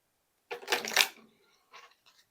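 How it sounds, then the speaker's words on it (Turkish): A deck of angel cards is shuffled and one card drawn: a dense, close papery riffle lasting under a second, then two short soft flicks, with no voices. "Hemen bir de meleklerden bir kart seçelim."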